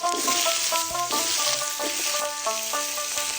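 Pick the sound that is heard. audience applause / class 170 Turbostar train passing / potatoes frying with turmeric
potatoes frying with turmeric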